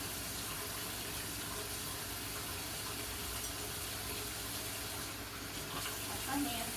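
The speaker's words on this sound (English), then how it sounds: "wash my hands and touch that salmon before I move on" Tap water runs steadily from a faucet as hands are washed in a kitchen before handling raw salmon, a continuous broadband gush throughout with faint voice in the background.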